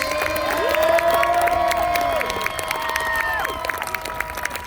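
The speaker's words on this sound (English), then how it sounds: "Ladies and gentlemen, a round of applause for our Kenilworth Knights!" Outdoor crowd clapping and cheering for the Kenilworth Knights on a hot, windy day, loud and sustained with whoops and shouts rising over the applause; a voice on a loudspeaker carries briefly above it.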